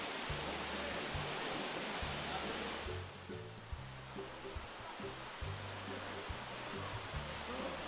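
Twin Falls waterfall on the road to Hana in Maui, a steady broadband roar of falling water that continues throughout, with a few faint low tones beneath it.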